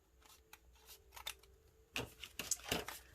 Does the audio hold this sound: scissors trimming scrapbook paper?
yes